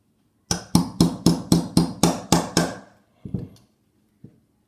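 Punch tapped with a hammer to drive the bolt catch pin into an AR-15 lower receiver, eight quick, evenly spaced metallic strikes followed by two lighter, isolated taps, close and clear.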